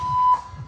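A condo fire alarm in Canada sounds as a steady, loud electronic tone that cuts off abruptly partway through, leaving low room rumble.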